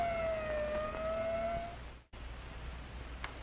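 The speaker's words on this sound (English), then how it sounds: "the ambulance brings in the victim of an accident that never should have happened" An ambulance siren wails loud and close in a steady tone for about two seconds, then cuts off abruptly before softer traffic noise continues.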